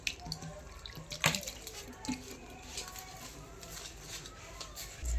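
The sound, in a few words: water added and kneaded into flour dough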